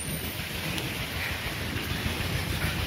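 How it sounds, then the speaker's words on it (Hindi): Heavy rain pours steadily during a dangerous-looking storm, a dense, continuous hiss with a low rumble beneath, loud and unbroken with no voices. "देखिए गाइज तो बारिश शुरू हो चुकी है, और ये देखो कितना खतरनाक मौसम है"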